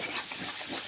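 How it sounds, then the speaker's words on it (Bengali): Pea filling for kachori being stirred and pressed around a pan over low heat, giving a brief, steady scraping and shuffling texture that sounds close and continuous with no voices. "এরপর সবগুলোকে একসাথে নাড়াচাড়া করে"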